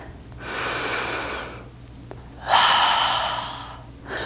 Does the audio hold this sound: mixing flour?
no